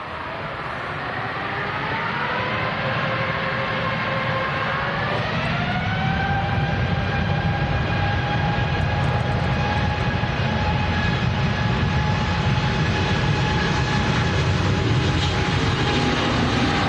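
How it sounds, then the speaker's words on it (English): A jet airliner takes off at Manchester Airport on an evening close-up: a loud, sustained engine roar with a whine that climbs in pitch partway through, then holds steady as the thrust builds. "What a fantastic looking aircraft this is."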